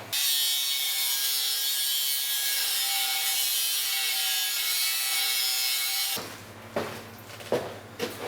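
Handheld sawing through a too-long metal plate on a sawmill build with dual Logosol E8 motors: a steady, bright rasping stroke for several seconds, then a few slower, separate strokes.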